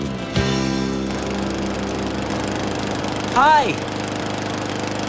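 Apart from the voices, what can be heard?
lawn mower running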